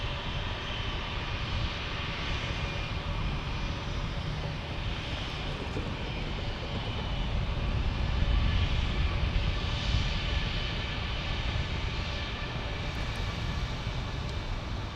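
A JetBlue jet airliner rolls for takeoff at San Diego International Airport, its engines a steady, broad roar that builds slightly near the middle and holds at a constant level, heard from a distance with no talking.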